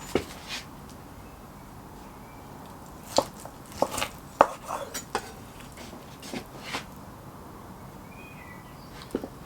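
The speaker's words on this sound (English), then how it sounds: "Now we'll just cut the bone out" A knife cuts through cooked pork ribs to free them from the bone after hot-and-fast cooking in a Gozney Dome with barbecue sauce, giving scattered sharp knocks and scrapes against a board over a quiet room.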